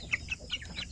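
A young rooster (stag) clucks in a few short, soft chirping calls evenly spaced over a second, fairly quiet against the background.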